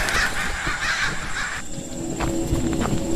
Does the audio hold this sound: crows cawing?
yes